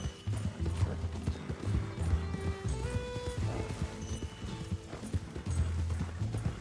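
Horse hooves clip-clopping in Red Dead Redemption 2 as riders travel together, a steady galloping rhythm of thuds with a brief whinny, moderately close, under light game music and faint background talk.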